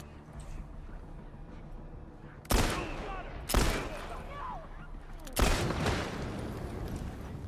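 Three sharp gunshots ring out in the video game The Last of Us Part II, spaced about a second or two apart over a low ambient background.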